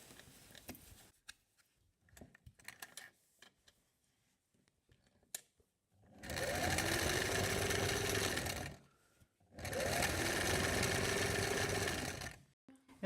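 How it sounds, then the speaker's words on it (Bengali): Clicks and small handling sounds come first, then an electric sewing machine stitches a trouser seam in two loud, steady runs of a few seconds each, separated by a short pause. "এখন ও সাইডের দিয়ে আর একটা সেলাই দিমু"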